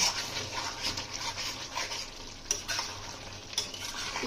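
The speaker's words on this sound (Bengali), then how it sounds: "আমাদের মাংসটা কষা হয়ে এসছে, চারিদিকে তেল ছেড়ে দিয়েছে" Curd chicken pieces frying in released oil as they are stirred in a pan, with a loud, steady sizzle and repeated scraping strokes, plus a couple of sharp utensil knocks near the end.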